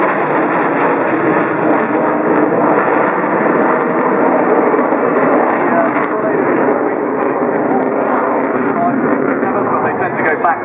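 Panavia Tornado jet performing a display at the RAF Waddington Airshow 2011, a loud continuous roar of jet engines filling the whole stretch without a break, with speech faintly underneath.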